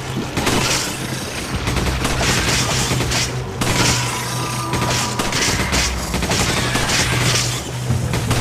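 Sustained gunfire and explosive booms in Resident Evil 5, a weak weapon firing repeatedly amid a loud chaotic fusillade that fills the whole stretch with sharp cracks and rumbling impacts.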